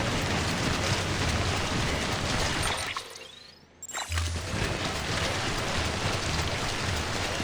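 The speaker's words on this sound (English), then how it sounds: "the weather is rainy, I can see" Steady rain hisses in Death Stranding, a dense broadband wash that briefly drops out for about a second midway, with a faint rising whistle, before returning at full strength.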